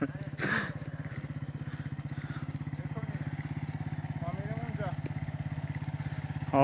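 A motorcycle engine idles steadily with a fast, even low thrum during a riding lesson in open desert country, running throughout while people talk nearby.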